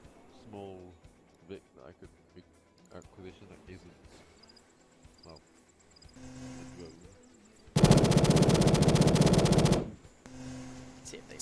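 Sustained burst of automatic machine gun fire with tracers in a military video game, a loud dense rattle lasting about two seconds after quieter game sounds and talking.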